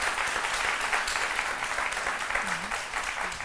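Audience applause at a French-language television midday show, steady dense clapping from a studio crowd that fills the whole stretch at moderate volume.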